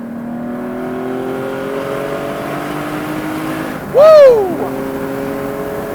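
A Porsche 718 Spyder RS flat-six revving out on the road, steady engine drone building before a sharp, loud rising howl spikes and drops back, with a person whooping briefly over it.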